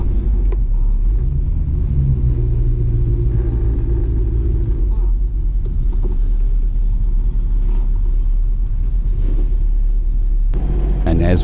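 Classic Holden Torana club cars gathered for a morning run idle with a deep steady rumble, close and loud, with engines shifting as they begin pulling away.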